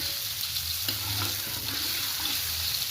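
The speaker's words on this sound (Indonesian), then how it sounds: "kita goreng bumbu raciknya ya" A spice mix for oreg tempe sizzles steadily as it fries in a pan, with occasional stirring scrapes and no talk.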